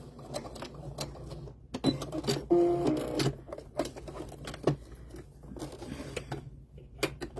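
A sewing machine backstitches in short bursts of rapid mechanical stitching, pausing between runs with light handling clicks, fairly close and without talk.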